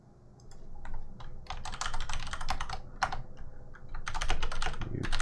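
Rapid typing on a computer keyboard, close and fairly loud, with bursts of clattering keystrokes and brief pauses between flurries.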